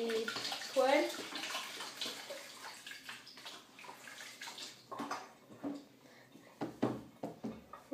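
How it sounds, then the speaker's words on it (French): A hand rinsed under a running tap, close water rushing and splashing that starts fuller and breaks into uneven bursts of spatter, with a voice speaking softly over it. "je vais la repasser sous l'eau parce que du coup j'ai des poils"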